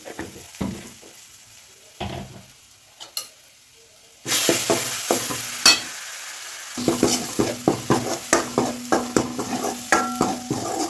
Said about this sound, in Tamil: இப்போ குழம்பு தாளிச்சாச்சுங்க.